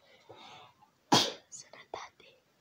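A single, sudden sneeze bursts out loud and close, with soft breathy whispering before it and a few quieter murmured sounds after.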